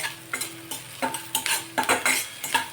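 Grated ginger and chopped garlic fry in a pan for vegetable fried rice, with a soft sizzle under repeated clinking scrapes of a spoon against the pan in uneven bursts, close up.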